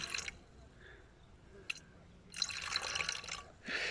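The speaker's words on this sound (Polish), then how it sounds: "wylewamy 100 ml wyciągu z pokrzywy" Nettle extract is poured from a container into a garden sprayer, heard as quiet liquid bursts and splashes with short gaps of near silence.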